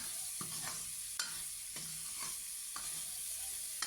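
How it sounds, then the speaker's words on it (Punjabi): Halon bhurji with tomatoes being stirred in a pan, a spoon scraping in several separate strokes over a steady soft sizzle throughout. "ਚੰਗੀ ਤਰ੍ਹਾਂ ਮਿਕਸ ਕਰ ਦਾਂਗੇ ਨਾਲ ਹੀ ਆਪਾਂ ਟਮਾਟਰ ਪਾ ਦੇਣੇ ਨੇ"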